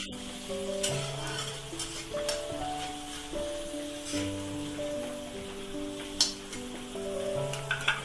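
Close, continuous sizzle and stirring as moong dal is sautéed with dill greens and a little turmeric, with a musical tone running underneath and occasional scrapes of the pan.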